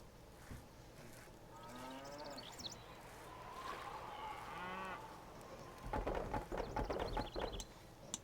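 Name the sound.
cattle mooing in the video game Stronghold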